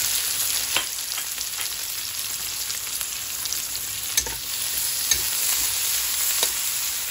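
Onions and tomatoes sautéing in a pan for ginisang miso with vegetables, a steady bright sizzle broken by a few sharp clicks of a spatula stirring, close up with no voices.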